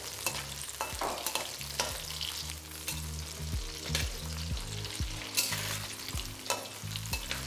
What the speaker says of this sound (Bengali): এবারে একই তেলে আমি ফুলকপিগুলোকে ভেজে নেব